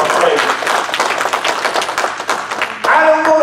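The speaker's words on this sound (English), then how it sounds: "you just want to give the Lord a hand clap of praise" A church congregation claps hands in praise, a dense run of sharp overlapping claps that carries on for a few seconds with voices mixed in.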